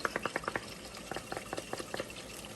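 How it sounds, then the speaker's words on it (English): Water sloshes and knocks inside a jar shaken by hand in a home kitchen while making Jamaican rasta pasta, a quick series of rhythmic rattling bursts, close and fairly loud, with no talking. "I'm gonna add a little bit of water in my jar, shake it up"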